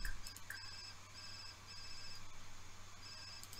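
A mobile phone rings in The Sims 4: a bright, repeating electronic ringtone chirps over a low steady game hum, fairly faint and alone.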